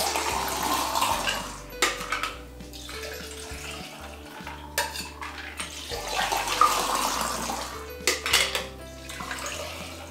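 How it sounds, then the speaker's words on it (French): Juice and cider bubbles for a cider mimosa poured from one tin back into the large shaker tin during a Cuban roll, splashing liquid streams repeated in a few close, sloshing bursts with clinks of metal. "On vient remettre notre liquide dans la grande partie et on recommence."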